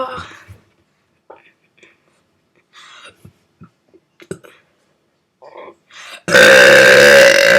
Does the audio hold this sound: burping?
yes